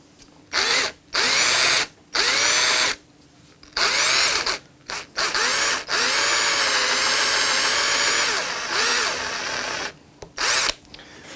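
A power drill with a 7mm brad point bit bores into guitar wood during an electric guitar build, its loud motor whine coming in repeated bursts of one to three seconds, with one longer sustained run, and no talking.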